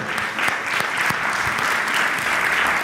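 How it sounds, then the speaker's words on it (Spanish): A church congregation applauding during a sermon, even, full-room clapping that stays steady and moderately loud for a few seconds with individual claps standing out. "Denle un aplauso al Señor, por favor"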